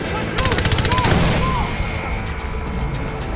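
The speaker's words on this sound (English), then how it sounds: "Have some frag grenades, friends! Lots of them!" Frag grenade explosions and rapid gunfire from the video game Far Cry 4, a loud, dense burst of automatic shots and booms that fades into lingering rumble.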